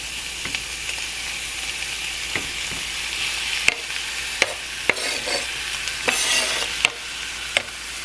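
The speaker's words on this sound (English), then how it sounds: "Just add my seasoned steak right in there with the vegetables." Seasoned steak sizzling with vegetables in olive oil, a loud close continuous hiss broken by sharp clicks and scrapes of a utensil against the pan.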